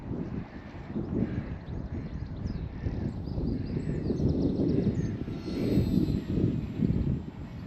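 A Zohd Drift Dark Breeze RC plane flies at half throttle in windy conditions, its motor a faint buzzing drone under heavy, gusting wind rumble, with an occasional bird call in the distance.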